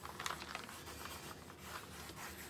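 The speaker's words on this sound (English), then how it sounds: "This is just a regular graphite pencil, and I'll just kind of close my eyes and make marks." A regular graphite pencil scratches and rubs across paper in quick, irregular strokes. The marks form a very faint, close, dry scraping with no voices.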